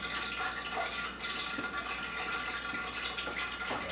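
Hot grease heating in a pot for Southern fried chicken crackles and sizzles steadily as water bubbles out, a continuous busy hiss with small pops, fairly quiet and with no talk.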